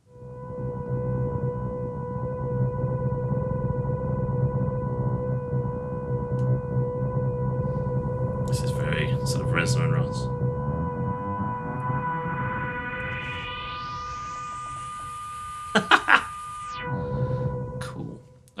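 Dark, droning Zebra synthesizer patch from the Arkhangel sound set, sustained low tones morphing as the mod wheel sweeps a rising, siren-like tone near the end, with brief bursts of texture, played alone.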